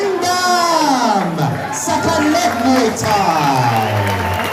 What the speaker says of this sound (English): please give a round of applause for Singdam